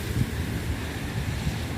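Wind blowing steadily outdoors, buffeting the microphone with low gusty rumbles.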